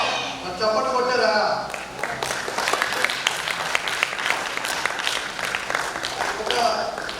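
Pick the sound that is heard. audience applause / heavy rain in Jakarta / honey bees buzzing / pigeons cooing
audience applause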